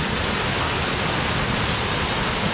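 A steady, full roar of a waterfall on the São Jorge river canyon rushes without pause, broadband and constant, heard up close.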